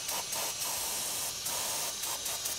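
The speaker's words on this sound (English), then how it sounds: "we need to use now brake clean and continue to scrape to get all of that extra stuff off" Brake cleaner sprayed onto an engine to clear carbon deposits, a loud, close, continuous hiss that pulses slightly as the spray is worked across the surface.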